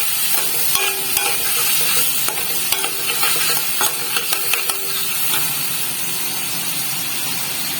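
Ginger garlic paste sautéing in a pan for potol dorma, a loud continuous sizzle with scattered clicks and scrapes as a utensil stirs it.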